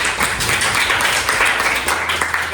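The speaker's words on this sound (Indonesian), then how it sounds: "Tepuk tangan." A classroom group claps together in a dense, continuous burst of applause lasting a couple of seconds, loud and close with no distinct voices.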